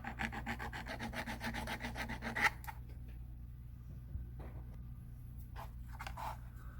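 Curved file rounding over the corner of a wooden part during a boat refit, giving a close, steady run of rhythmic rasping strokes for a couple of seconds, followed by a few scattered handling knocks and scrapes.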